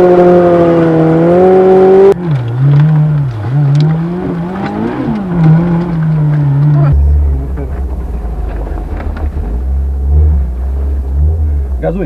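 A Lada Niva engine revs hard at full throttle, its pitch climbing and wavering loudly up close before dropping to a deep, rumbling low growl, with voices talking over it.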